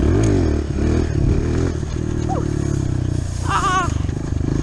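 A dirt bike doing a burnout, the engine droning loud and close with revving surges and rattling clatter throughout, ending in a brief higher whine.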